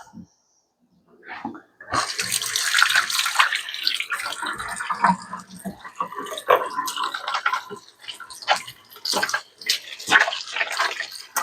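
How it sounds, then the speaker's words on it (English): Tap water runs steadily in a kitchen sink as hands are washed, a close broadband splashing with shifting rinses and small drips, continuing for several seconds after a brief quiet start. "I'm going to wash my hands"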